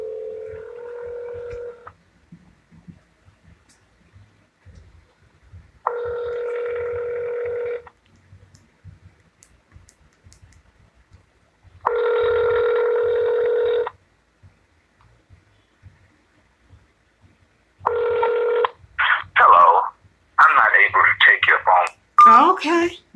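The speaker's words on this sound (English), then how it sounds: "let's get it dialed up and talk to our guest." Telephone dialing for a radio call-in guest, with several separate bursts of tones spaced a few seconds apart, each lasting about two seconds. Louder, choppier tone bursts follow near the end, and there is no talk in between.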